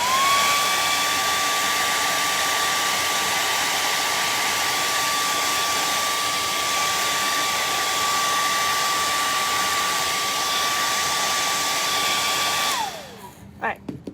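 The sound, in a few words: blow dryer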